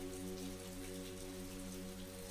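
Rain falls steadily on a cozy house on an evening, a dense even patter with a soft low hum underneath, continuous and unbroken, no voices.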